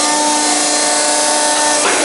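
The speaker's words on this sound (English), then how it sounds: "He's about to shear a piece." Industrial shear cutting a piece of half-inch-thick metal at a shop: a loud, steady, harsh grinding and scraping roar with a sharp shift in tone near the end, no voices.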